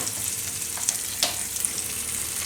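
Malai roti roasting on a griddle with ghee, giving a constant close hiss and crackle of frying with a couple of faint clicks, no voices.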